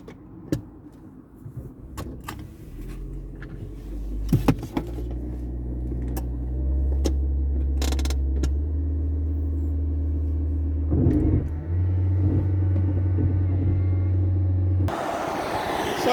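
Interior of a car on the drive from Halifax railway station to Crow Wood Park, with a steady low engine and road rumble, a few clicks and knocks, and a rise in noise near the end.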